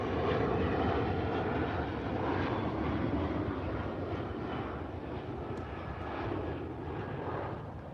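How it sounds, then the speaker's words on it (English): A propeller airplane passes overhead, its broad, rumbling drone filling the air steadily and slowly fading slightly toward the end, with no voices over it. "there's a plane going overhead."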